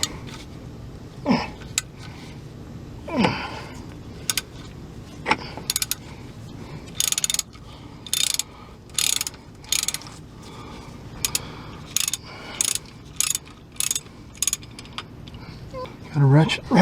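A ratchet wrench loosens a bolt on a Dodge Caravan AC compressor in a repeated series of sharp, close clicking bursts with short pauses, along with a few grunts and a voice speaking at moments.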